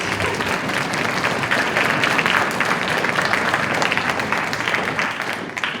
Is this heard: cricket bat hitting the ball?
no